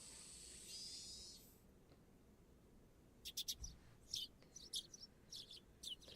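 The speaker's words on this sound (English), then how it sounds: "The chirping of birds served as my alarm clock." Birds in the early-summer setting of the Higurashi video game chirp in a scatter of short, high tweets that come in quick bursts after a brief hiss, fairly faint over a quiet background.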